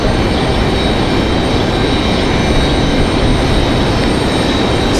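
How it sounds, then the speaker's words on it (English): American Airlines A319 on final approach into Raleigh Durham International arriving from Philadelphia, a loud, steady broadband jet roar that stays constant throughout with no voices. "Again, American Airlines 2781 here on final. Arriving now."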